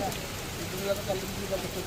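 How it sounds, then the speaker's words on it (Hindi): Heavy monsoon rain on a road trip in Odisha, a dense steady hiss of drops on surfaces with people talking faintly underneath. "हाँ बा भयंकर वर्षा"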